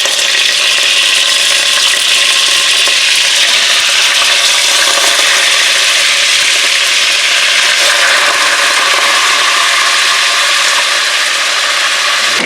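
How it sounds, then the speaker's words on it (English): Beef short ribs searing in hot oil in a pot, a loud, dense, continuous sizzle and crackle that holds steady throughout without talk. "You want all of these short ribs to get a nice sear."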